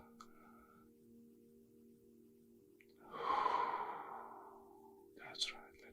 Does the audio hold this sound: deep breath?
yes